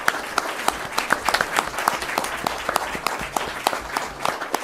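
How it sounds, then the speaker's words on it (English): Audience applause at a candidates' night in Plaistow, a steady wash of many hands clapping in a room with sharp individual claps standing out, moderately loud and continuous with no talk. "How about a round of applause for these candidates?"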